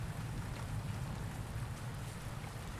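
Steady rain in the video game Rainswept falls as a soft, even hiss of drops, faint and continuous with no voices.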